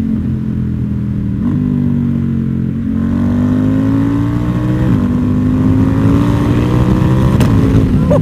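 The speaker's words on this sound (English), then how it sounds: "I'll give you a downshift right here." A Ducati V2 Bayliss with an Akrapovic full exhaust downshifts, loud and close. A continuous engine note steps in pitch with several sharp throttle blips and a rising rev toward the end.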